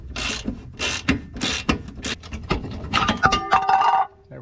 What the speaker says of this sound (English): Let's take this nut off.